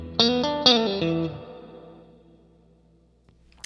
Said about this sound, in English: the spring reverb sounds really nice as well